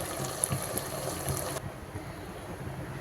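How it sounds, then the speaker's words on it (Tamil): Water pours into a pot of drumstick chicken curry as a steady close trickle, then cuts off partway and leaves a low simmering hush. "இப்போ தேவையான அளவுக்கு தண்ணி ஊற்றிக்கலாம்."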